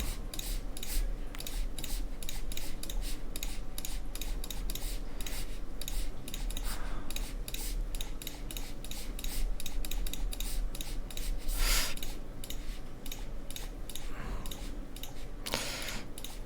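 A mouse clicks rapidly and repeatedly during aim training for a competitive shooter game, a close, dense stream of sharp ticks with occasional louder scraping bursts.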